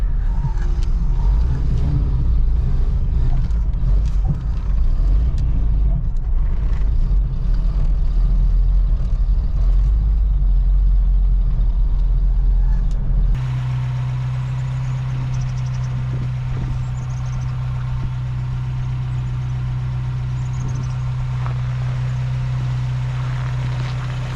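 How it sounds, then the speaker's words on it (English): A 1985 Toyota 4Runner engine idling, a low steady rumble with some rattly texture at first, then a smoother, quieter idle with a clear low hum after a sudden shift partway through; no speech. "Sounding pretty good. Idling nicely."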